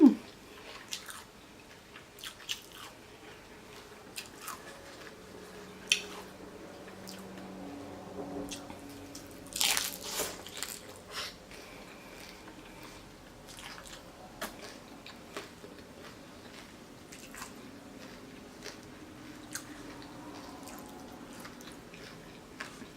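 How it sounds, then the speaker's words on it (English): Close-up eating of crunchy tacos: scattered soft crunches, squishy chews and small clicks over a quiet room, with one brief louder crunch burst partway through. "enjoy the crunching sounds while you can"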